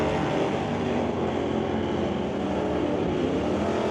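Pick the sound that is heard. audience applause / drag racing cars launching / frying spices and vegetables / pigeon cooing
drag racing cars launching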